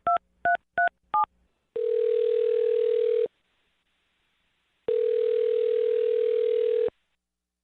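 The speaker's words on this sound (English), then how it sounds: "I'm going to dial her phone number right now, see if we can get her on the phone" A telephone call being placed: four quick touch-tone dialing beeps, then two long ringback tones separated by a pause of silence, clear and alone without any voices.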